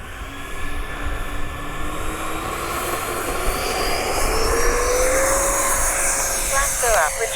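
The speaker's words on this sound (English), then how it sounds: "that is a good flying plane right there" A Freewing 70mm Me 262 radio-controlled jet flies overhead, its steady electric ducted-fan whine rising and falling in pitch as it passes at a distance, with a voice talking over it.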